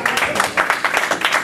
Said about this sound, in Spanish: Dale un aplauso al Señor esta noche.